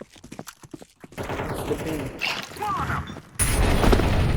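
Gunfire in a first-person shooter map playtest, a sparse run of sharp shots early on, then a sustained, louder burst of fire near the end, with players talking over the action.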